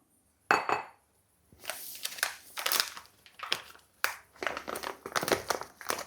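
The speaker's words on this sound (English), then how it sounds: "I'm gonna dump all the bean." Coffee beans are poured into a container holding a little water, giving loud crunchy rattling bursts in several uneven pours with short pauses between them, close up and with no talking.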